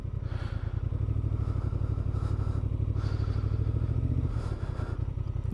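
A 2024 Honda Transalp parallel-twin motorcycle engine idles steadily up close, a lumpy throbbing rumble with mechanical clatter, dipping slightly near the end.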